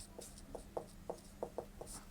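Pen or marker writing out a math solution in a class 12 differentiation lesson, heard as a series of short, faint scratching strokes in an irregular rhythm with no voice over them.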